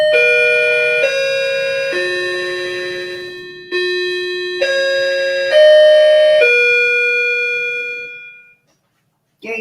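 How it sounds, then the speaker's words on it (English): A multi-tone electronic doorbell chimes through a long melodic sequence of clear, sustained notes, ringing out alone before fading to silence. "Here goes the doorbell."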